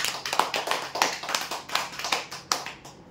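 An audience applauds a prize winner at a lucky draw event, with a brisk burst of many hands clapping at a fairly close range that thins out toward the end.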